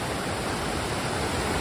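A waterfall on a forest trail in Olympic National Park's Royal Basin roars as a steady, dense rush of water with no breaks, filling the whole moment at moderate volume.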